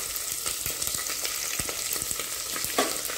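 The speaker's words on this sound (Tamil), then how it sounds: "இதை வதக்கிக்கணும்." Small onions sizzle steadily in a hot pan, with a continuous crackle and occasional sharper pops and stirring scrapes.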